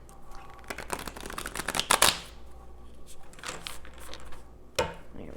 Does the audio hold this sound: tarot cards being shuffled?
yes